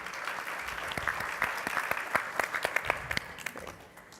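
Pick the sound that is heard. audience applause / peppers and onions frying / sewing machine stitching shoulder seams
audience applause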